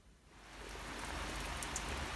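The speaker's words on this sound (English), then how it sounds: "yes, it's raining." Steady rain falls outside, a soft continuous hiss that swells slightly and holds alone with no voices.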